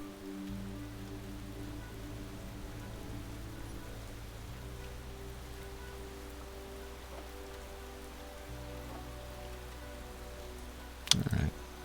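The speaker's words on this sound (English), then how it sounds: "A bit of rain?" Steady rain falls across a survival scene in the Space Engineers video game, a soft continuous patter under low droning tones, with a brief sharper burst near the end.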